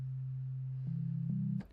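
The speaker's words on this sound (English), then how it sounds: "Just a sine wave." A lone pure sine tone from an Arturia Pigments synthesizer, fundamental only with no added partials, holds low and steady, steps up slightly twice, then cuts off.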